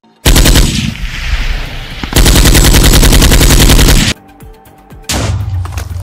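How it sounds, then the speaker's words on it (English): Rapid bursts of heavy automatic cannon fire in a Brookhaven RP video game, loud and close, in long sustained volleys with a brief quieter gap before another burst. "Now we can safely shoot them down with these cannons."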